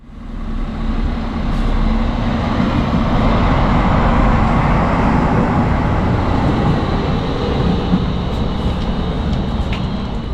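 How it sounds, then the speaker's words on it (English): A Karlsruhe Stadtbahn tram train rolls into a station with a steady, loud rumble and rattle of wheels on track, a faint squeal rising near the end. "here we can take a look at the arrival of my train today."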